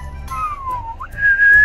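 A person whistles a short melodic phrase indoors, a clear tone sliding down and then up before a sustained higher note, loud and close, with a low background hum underneath.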